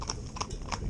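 Hooves of two horses driven in tandem, a wheeler and a leader, clopping in a few distinct close strikes over a short stretch with no talk.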